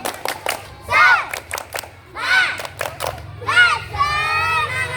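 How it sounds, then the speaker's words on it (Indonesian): Schoolchildren in a physical education lesson doing a spirit clap chant: sharp rhythmic claps in quick sets alternate with loud group shouts, ending in a long sustained cry from many young voices. "Tepuk semangat."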